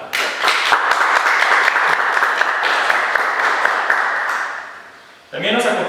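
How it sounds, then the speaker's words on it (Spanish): An audience at a regional history talk in Oaxaca gives a short round of applause, dense clapping that fades after about five seconds before a voice begins speaking. "Si le brindamos un pequeño aplauso"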